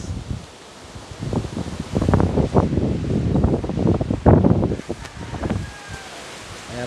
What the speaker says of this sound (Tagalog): Kaya po, ang lakas po ng hangin.